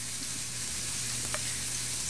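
Burger patties sizzling in a pan, a steady close crackling hiss with faint pops, no voices.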